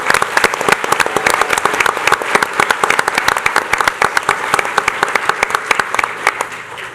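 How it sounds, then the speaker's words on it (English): A school board meeting audience breaks into one big round of applause, with sharp individual claps standing out over a sustained crowd wash that carries on for several seconds. "Let's just start with one big round of applause."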